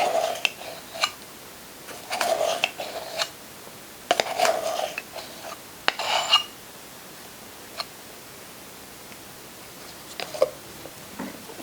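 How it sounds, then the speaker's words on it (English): Flour, salt and baking powder stirred together in a bowl with a spatula, soft scraping and light taps in scattered bursts, quiet and close, with no talking. "Mix these dry ingredients together here."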